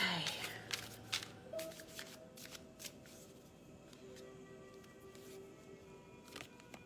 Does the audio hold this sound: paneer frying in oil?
no